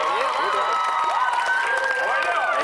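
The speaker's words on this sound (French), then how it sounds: "j'aimerais qu'on applaudisse, qu'on accueille nos deux participants de la soirée" Studio audience at a television game show clapping and cheering as two contestants are welcomed, a dense burst of applause with whoops and voices mixed in.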